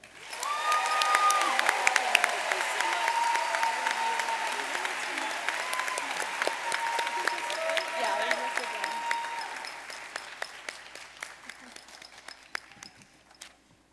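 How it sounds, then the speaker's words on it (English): Sustained applause from a large audience at a Hillsborough education awards ceremony, a dense roar of clapping that gradually thins and fades toward the end, with a brief tone and faint voices underneath early on. "Please join me in a round of applause"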